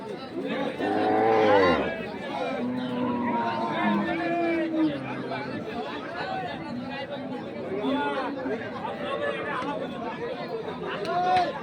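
Dairy cattle of Sahiwal, Sindhi and local breeds low at a busy rural cattle market, a loud drawn-out moo near the start and a few shorter calls, while people chatter and bargain throughout.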